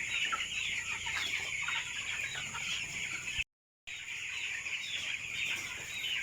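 Eighteen-day-old broiler chickens on a farm produce a continuous dense chorus of chirps and clucks, steady throughout apart from a brief gap.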